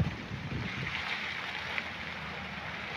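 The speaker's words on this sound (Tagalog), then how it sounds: "napakalakas ng hangin" Strong wind roars steadily through a heavy rainstorm, a dense continuous wash of rushing air and rain noise with low gusty rumble, near and loud, no voices.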